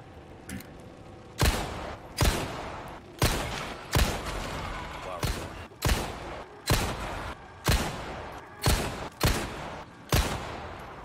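Repeated gunshots in Resident Evil 4 Remake with the Inferno mod, about a dozen loud single blasts spaced roughly a second apart, each with a short decaying tail.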